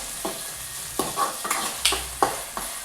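Green chilli paste fries in a pan, with a hissing sizzle under several quick stirring scrapes and spoon taps spaced about half a second apart.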